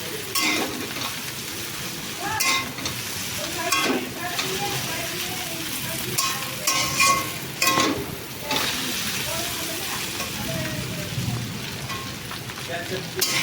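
Boiled chow mein noodles stirred and tossed in a hot pan, a continuous sizzle broken by repeated clattering scrapes and knocks of the utensil, close and fairly loud throughout.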